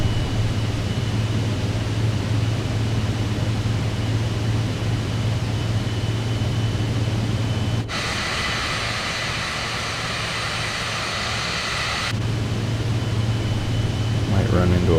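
A steady, close drone of an airplane's engines fills the cockpit in flight near Tromso, with a constant low hum and airy hiss throughout and a brief radio-like hiss partway through.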